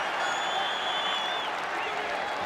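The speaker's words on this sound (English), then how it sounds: "Sharks stand and applaud." Crowd of Cronulla-Sutherland Sharks fans at a rugby league finals match standing and applauding, a steady wash of distant massed clapping and crowd noise with no break.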